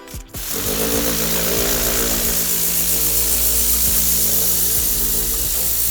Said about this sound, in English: So this is when we go grab a turbo nozzle.